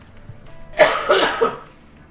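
A person coughs three times in quick succession, close and fairly loud, against a quiet background.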